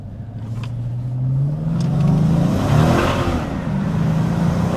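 Dodge Challenger SRT8 with a 6.4-litre HEMI V8 pulling out of a junction, its deep engine note rising in pitch as it accelerates, loud and close inside the car.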